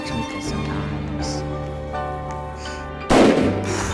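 Gunfire in a video game: a single loud, sharp burst of shots cuts in near the end over a steady bed of game music and ambience.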